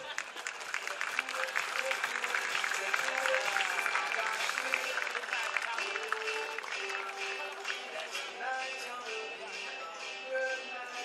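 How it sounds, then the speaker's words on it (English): Crowd applause at a beach volleyball medal ceremony in Manila, sustained clapping with some voices and music mixed in throughout. "Big round of applause."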